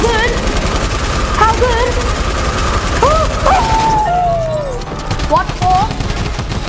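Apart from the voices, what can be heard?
suppressed assault rifle gunfire in Fortnite video game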